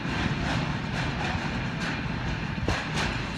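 An EWS class 66 freight train, 66089, rolls through Exeter St David's station, giving a loud, continuous rumble with faint rhythmic wheel clatter and no talking.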